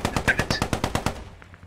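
Rapid video-game gunfire in a tank battle: about ten evenly spaced automatic shots in a quick burst, loud and close, then fading into quieter distant pops.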